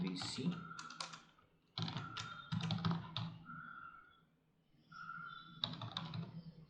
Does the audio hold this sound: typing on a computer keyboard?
yes